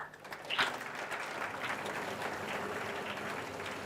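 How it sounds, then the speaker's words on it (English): Steady applause from an audience at a South African mathematics awards function, honouring a senior winning team from the Western Cape; fairly faint and even, heard from a distance. "A round of applause once again."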